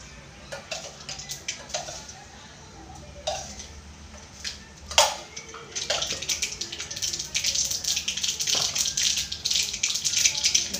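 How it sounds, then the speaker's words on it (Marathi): Mustard seeds crackle and pop in hot oil for kadhi, a dense sizzling patter that builds and intensifies, close, with occasional sharp pops. "मोहरीला असं फुटू द्यायचं, तड तड फुटू द्यायचं तिला मोहरीला।"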